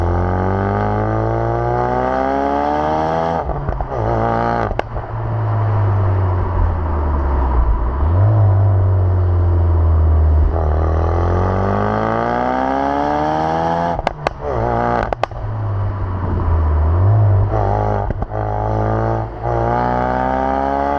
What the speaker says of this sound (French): trouve-moi une autre voiture qui a un échappement comme ça, quoi